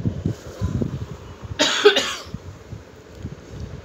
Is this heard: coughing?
yes